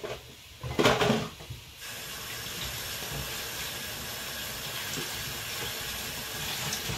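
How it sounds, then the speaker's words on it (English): A kitchen tap runs in a steady hiss of water while hands are rinsed after handling raw sausage. A few louder splashes come near the start before the flow evens out, fairly faint and alone. "Let me give my hands a quick rinse."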